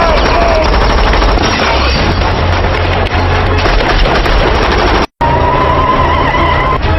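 Gunfire in an FBI shootout film scene: loud, dense, continuous crackling volleys with a very brief cut of silence partway through, then more shots.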